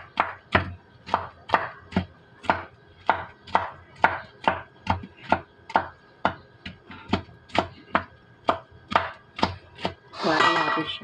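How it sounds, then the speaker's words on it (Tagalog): Food, with plenty of garlic, finely chopped with a knife on a board for grilled squid: a steady run of about twenty-five crisp, evenly spaced chops, close and clear, ending in a brief rustle. "Hiwain natin siya."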